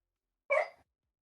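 A dog indoors lets out a single short bark, sharp and fairly close, alone against silence.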